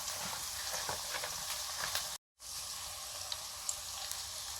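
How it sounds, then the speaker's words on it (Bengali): Whole cumin seeds frying in hot oil give off a steady, close crackling sizzle with scattered pops, broken by a short moment of silence midway. "আঁচে রান্না হবে গোটা জিরে"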